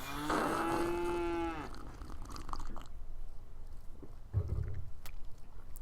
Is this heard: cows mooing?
yes